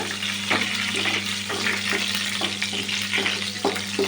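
Tempering spices fry in about four spoons of hot oil for masala vada curry, giving a steady close sizzle with light stirring clicks.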